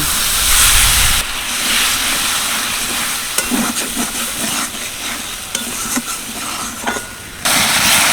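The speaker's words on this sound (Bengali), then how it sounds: "আবার অল্প একটু জল দিয়ে আরও একবার ভালো করে কষিয়ে নেব" Spice paste for a vegetarian flour-dumpling curry hisses loudly in a hot pan after a splash of water, a strong steady steamy sizzle broken by stirring scrapes and clacks, close up, no talk.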